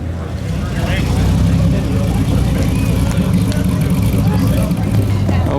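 De Tomaso Mangusta with a Ford engine driving in at an outdoor Italian car concours, a steady low engine rumble idling and rolling close by under loud announcer speech and crowd noise.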